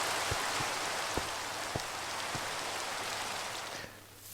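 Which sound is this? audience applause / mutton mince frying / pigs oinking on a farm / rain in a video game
rain in a video game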